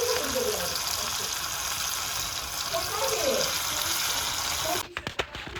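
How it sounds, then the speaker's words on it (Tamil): Fish sizzles and crackles steadily as it fries in hot oil, a loud, constant hiss that cuts off abruptly near the end, followed by a few clanks. "நல்லா அந்த பொரிக்க சவுண்டு சரன்னு கேட்கும்."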